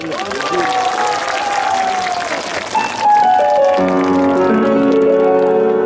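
Concert audience applauding and cheering at a festival performance by a trot singer, a dense steady wash of clapping under a singer's voice, then music swelling in with sustained tones over continuing crowd noise.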